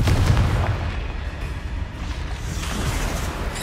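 Repeated Confringo fire-spell blasts in Hogwarts Legacy, a dense rumbling volley of booming explosions sustained throughout, loud and close with no pauses.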